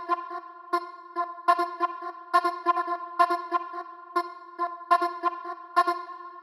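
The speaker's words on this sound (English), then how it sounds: "So the vocals with the noise gate sound like this." A vocal sample chopped by a side-chained noise gate in a psytrance production, heard as rapid rhythmic stuttering bursts of voice opening and closing in a steady pulsing pattern, alone.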